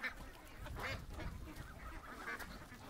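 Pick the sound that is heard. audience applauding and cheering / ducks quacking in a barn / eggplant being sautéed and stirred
ducks quacking in a barn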